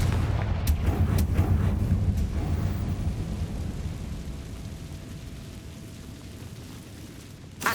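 A Confringo fire spell blasts in the Hogwarts Legacy video game, sending out a loud booming explosion that rumbles and slowly fades over several seconds, with a few sharp cracks near the start and no talking.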